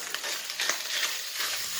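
Hot dogs, ham, pork chorizo and hamburger meat frying in a pan and being stirred together, a loud, steady broadband sizzle with scraping stir strokes running throughout.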